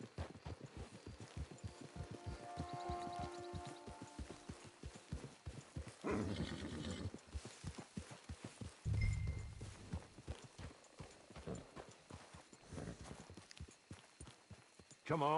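Horse hooves clip-clopping in a steady rhythm in a video game, with a whinny and some rustling movement, faint under occasional talk.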